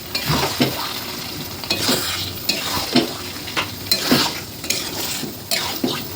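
Mutton fat trimmings stir-fry in a pan with spices, a spatula scraping and clattering against the metal in repeated strokes over a continuous sizzle, close and fairly loud.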